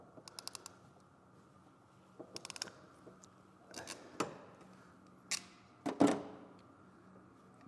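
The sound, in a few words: crimping a butt connector with crimpers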